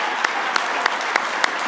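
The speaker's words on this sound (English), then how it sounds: "let's just give them a giant round of applause" Wedding guests give a big round of applause with even, continuous clapping, punctuated by a few sharp, louder claps standing out near the listener at regular intervals.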